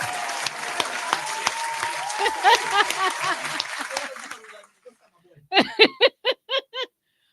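Hand clapping for Scales comes in two parts. First a dense wash of clapping with chuckles and voices mixed in fades out. After a short gap, about six loud, separate claps follow close by at a slowing, even pace.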